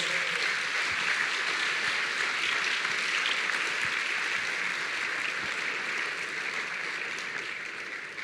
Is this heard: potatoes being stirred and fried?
no